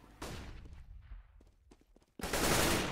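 Gunfire in the video game Counter-Strike during a Ukraine vs France 2015 World Championships qualifier match: sharp bursts of shots open and close the moment, with a quieter stretch of scattered clicks between.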